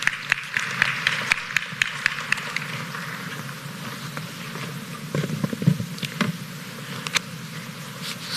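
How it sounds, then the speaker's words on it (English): Light, scattered clapping from an audience at a precision medicine conference, individual sharp claps over a low room hum, fairly faint and thinning out. "A round of applause, please."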